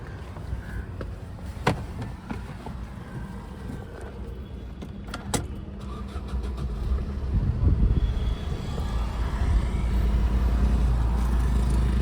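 Maruti Brezza ZDi Plus 2017 diesel car with its engine cranking over and settling into a steady idle, a low rumble rising and holding after a few clicks and knocks near the start.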